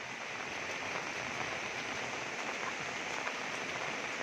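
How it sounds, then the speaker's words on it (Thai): A continuous downpour hisses loudly and evenly, thick rainfall drumming throughout without any talking. "ฝนตกหนัก เ"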